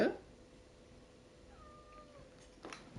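A single cat meows once, faint and drawn out, in a quiet room, followed by a few light indoor rustles.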